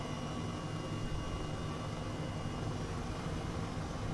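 H135 helicopter engine and rotor in Microsoft Flight Simulator, a steady, fairly faint broadband whine and hum with no clear change, alone without talk.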